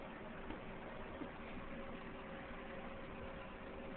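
An electric fan blows steadily nearby, a constant whooshing hum with a faint mechanical drone running unbroken throughout.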